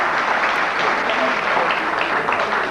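Audience clapping loudly and steadily at a film stars night event, a dense continuous wash of many hands throughout with no pauses.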